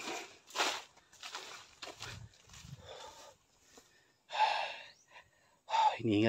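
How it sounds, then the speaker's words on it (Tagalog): Heavy, breathy panting and gasping from someone out of breath after walking back and forth searching an outdoor area, coming in uneven bursts with short pauses, fairly close and moderately loud. "Hinihingal na ako."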